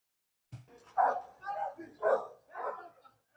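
A dog barks a few times in quick succession, mid-loud and close, in a played street video clip, with voice-like yips mixed in.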